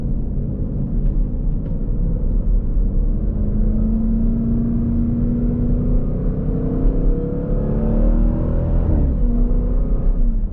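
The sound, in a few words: supercharged V8 of Jeep Grand Cherokee Trackhawk revving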